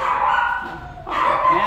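A young dog in an animal shelter kennel gives a loud, continuous vocal sound, barking or whining nearby with a short dip midway, over steady kennel background noise.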